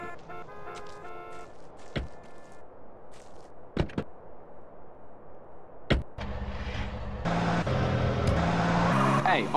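Car driving in GTA San Andreas, an engine hum running steadily under game music and voices, with a few sharp clicks, then louder music and engine noise toward the end.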